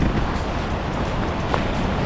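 A glacier-fed stream below a fern forest near Fox Glacier, New Zealand, roars steadily and broadly, a dense continuous wash like a fast stream nearby, with no voices.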